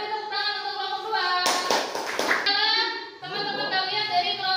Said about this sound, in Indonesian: Kita beri tepuk tangan untuk kelompok dua.